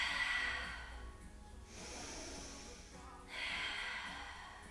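Heavy breathing during a Pilates hamstring stretch, a few long airy exhales and inhales in sequence, close and moderately loud with no talking.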